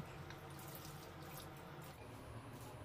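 Water poured into a cooking pan of ayungin fish paksiw simmering on low heat, a steady close splashing rush of liquid with no voices.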